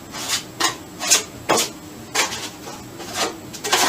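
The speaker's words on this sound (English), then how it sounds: "using 2 trowels to work the joint compound" Two trowels scrape and rasp joint compound across a wall in short rhythmic strokes, about eight close, crisp passes in quick succession.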